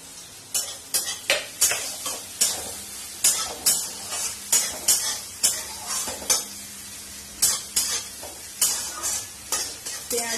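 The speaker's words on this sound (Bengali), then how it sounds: "পেঁয়াজ গুলো লাল লাল করতে হবে" Onions stir-fried in a pan after fish has been fried, for a rupchanda fish recipe: a steady run of repeated loud sizzling scrapes as the spatula stirs, roughly one every half second, close up with no talking.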